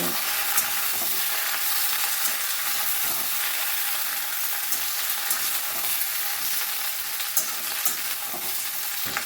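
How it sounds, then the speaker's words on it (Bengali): Cut flat beans fry in mustard oil in a wok while being stirred, a loud steady sizzle and hiss running throughout with occasional scraping of the spatula, close and with no voices. "এবার কেটে রাখা শিমগুলো দিয়ে দিলাম। এবারে আমি সব কিছু ভালো করে মিশিয়ে নেব।"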